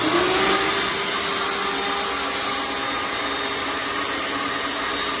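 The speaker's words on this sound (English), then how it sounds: "turn it on, the vacuum on, and we're gonna start winnowing our beans" A vacuum-powered cacao bean winnower for cracked beans runs with a loud, steady whooshing whine that holds unchanged from start to finish.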